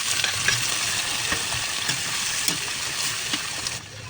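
Chopped tomatoes sizzle and fry in a pan with bitter gourd, onion and garlic for sautéed ampalaya, a steady close crackle with occasional stirring clatters that dies down at the very end; no talking.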